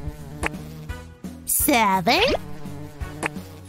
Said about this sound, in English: The bees buzzed our number to us!